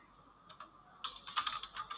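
Keys clack on a computer keyboard, first two isolated taps and then a quick run of close, crisp keystrokes at a quiet level.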